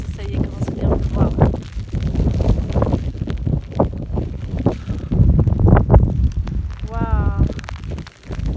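Strong thunderstorm wind buffets the microphone in loud, roaring gusts that rise and fall in waves, with a voice breaking through briefly near the end.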